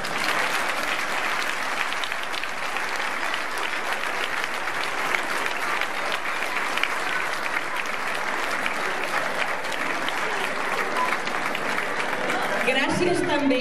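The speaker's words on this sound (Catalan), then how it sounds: "Gràcies a tots i un fort aplaudiment." Audience at a fashion show during an olive oil and asparagus fair in Godall claps continuously, a dense, loud, even wash of applause that holds for the whole stretch and thins out only at the very end.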